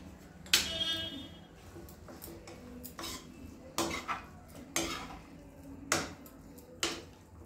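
A spoon stirs pasta with oregano in a pan, scraping and knocking against the metal in a slow series of sharp clinks about once a second, close and alone with no speech.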